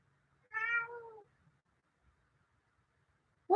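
A cat gives one clear, drawn-out meow close by in a quiet indoor room, followed by near silence and the start of another sound at the very end.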